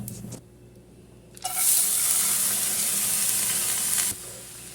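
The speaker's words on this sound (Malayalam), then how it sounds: "അതിലേക്ക് നമ്മൾ നേരത്തെ കഴുകി വരി വെച്ചില്ലേ പായസപ്പരിപ്പ്, അതിട്ട് കൊടുക്കാം കേട്ടോ." Washed payasam dal is tipped into a hot pan, bursting into a loud, close sizzle that holds steady for a few seconds before abruptly dropping back to quieter background, without any talking.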